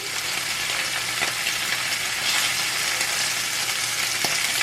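Bacon grease sizzles steadily in a pan, with sharp pops and crackles bursting out at irregular moments.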